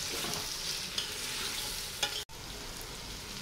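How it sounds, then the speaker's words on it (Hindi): Finely chopped tomatoes sizzle and fry in a pan as they are sautéed for a chicken panja recipe, with a continuous close crackle and occasional scrapes of stirring. "अब हम टमाटर भी नरम कर लेंगे 2 मिनट तक भून के।"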